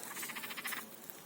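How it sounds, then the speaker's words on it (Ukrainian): A quick rattling croak from frogs, a short run of rapid pulses that stops abruptly, faint and outdoors. "Ну, це жабиськи тут."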